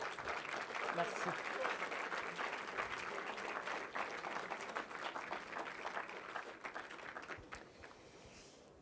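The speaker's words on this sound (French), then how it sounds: "je vais vous demander d'applaudir très fort la SNCF et le Ground Control" A crowd at a train-themed event applauds the SNCF and Ground Control in a faint, continuous round of clapping lasting several seconds, with a brief spoken word near the end.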